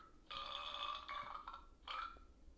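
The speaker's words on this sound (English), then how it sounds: "I burped." A single person lets out a burp while building a Lego set: a faint, drawn-out throaty belch with a brief second gulp near the end, heard alone against quiet room noise.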